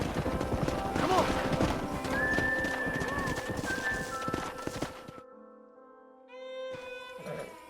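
Horse hooves clip-clop steadily on a path in the Red Dead Redemption video game, with a stallion whinnying clearly, then a pause and game music swelling toward the end.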